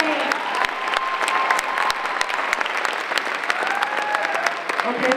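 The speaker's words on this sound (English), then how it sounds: "Big round of applause" A high school audience claps loudly with sharp individual claps standing out in a dense, sustained round of applause, accompanied by cheering voices and some talking underneath.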